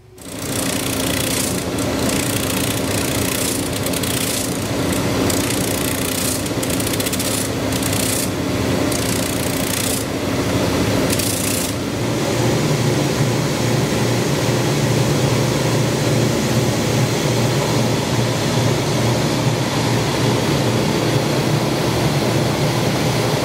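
Leather boot heels being leveled on a machine, a loud continuous grinding whir with a steady motor hum, interrupted early by repeated short rasping bursts, then running evenly at a slightly lower pitch.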